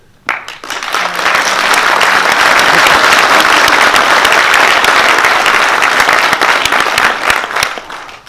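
An audience at a Royal Marines passing out ceremony claps, building quickly to dense, sustained applause that holds for several seconds before tapering off.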